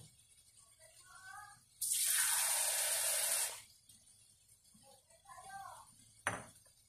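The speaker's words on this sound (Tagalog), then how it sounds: "lagyan na po natin siya ng tubig mga kaguro para sa kanyang kaunting sabaw" Water pours into a cooking pot of menudo in a loud, rushing burst lasting under two seconds, with faint murmuring before and after and a small clatter near the end.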